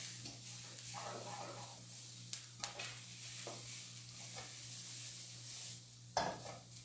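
Garlic sizzles in a pan for a chickpea stroganoff filling, a soft steady frying hiss over a low hum, broken by a few sharp clicks and scrapes of stirring.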